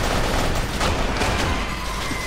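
Dense, continuous gunfire from the Kane & Lynch 2: Dog Days video game, loud and close with overlapping bursts throughout the short stretch.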